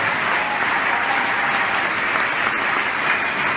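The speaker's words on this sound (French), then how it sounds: "acclame Jésus." A church congregation applauding, dense and steady clapping from many hands that fills the space evenly for a few seconds, fairly loud with no voices standing out.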